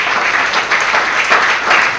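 A church congregation at a worship service breaks into loud, close, dense applause, hands clapping steadily for a couple of seconds.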